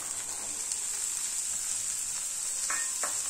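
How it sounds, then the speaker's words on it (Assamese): Raw green peas fry in a pan with tomato for a matar paneer, giving a steady, moderate sizzle throughout, with a few soft stirring scrapes near the end. "এই মটৰখিনি ভজা হৈ গৈছে"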